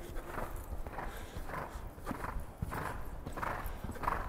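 A horse gallops in a riding exercise, its hooves thudding in a steady, rhythmic clip-clop at a moderate distance, fairly quiet with no voices over it.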